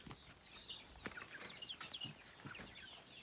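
A village hen clucks softly and repeatedly nearby in a garden, short irregular calls with faint rustling and no talk.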